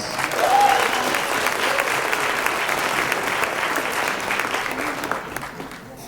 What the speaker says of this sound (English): let's please give our partners another round of applause.